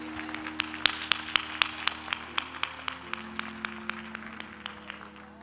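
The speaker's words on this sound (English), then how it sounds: "Clap your hands one more time for our visitors." A church congregation at a Sunday service claps for visitors, steady rhythmic hand claps at moderate volume over a sustained organ-like tone, with faint crowd murmur.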